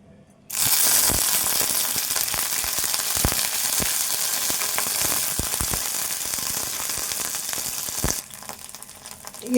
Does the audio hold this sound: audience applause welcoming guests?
no